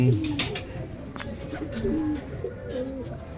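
Racing pigeons coo repeatedly at a loft in Cabuyao, Laguna, their soft low calls overlapping near and steady, with faint rustling around them.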